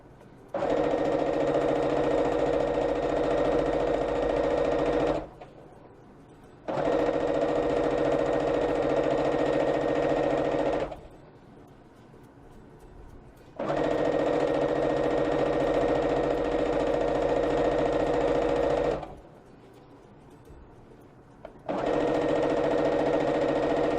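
A sewing machine runs in long continuous stitching bursts, each several seconds, with short pauses between, while a layered blanket is sewn; steady mechanical hum, close and alone.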